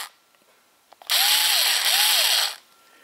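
A power drill backs screws out of a Wolfgang Puck Cafe Collection stand mixer during a grease change, whirring loudly and steadily for about a second and a half with a brief pitch dip midway, after light handling clicks.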